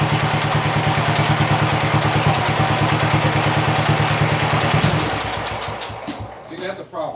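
The small engine of a Scag 36 inch walk-behind mower runs loud and close at a steady rhythmic idle, then sputters and falters unevenly toward the end as if about to stall.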